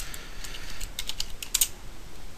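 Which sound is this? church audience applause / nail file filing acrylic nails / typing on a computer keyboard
typing on a computer keyboard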